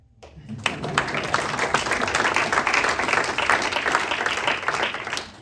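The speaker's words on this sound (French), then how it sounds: "On peut vous applaudir." Audience applause fills a theatre after a Kaamelott stage performance in Lyon, starting after a brief quiet moment and continuing as dense, steady clapping from a large crowd for several seconds.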